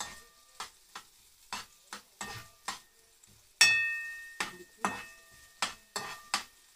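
Onions sautéing in butter in a pan, heard as a string of about a dozen distinct, close spatula strokes, each with a short burst of sizzle, separated by quieter gaps.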